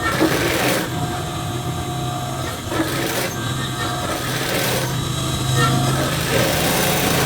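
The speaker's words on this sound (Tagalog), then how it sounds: "Pagka-tiklop ng paganyan, saka natin siya tahiin ng ganyan." A sewing machine runs steadily while stitching a folded pillowcase with a backstitch, a continuous whirring hum at close range with brief pauses and no talk over it.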